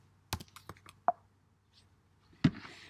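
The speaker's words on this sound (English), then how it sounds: "I'll type that in." A code is typed on a keyboard into diagnostic software: a handful of quick, close key clicks in a short burst, a pause, then one last firm keystroke.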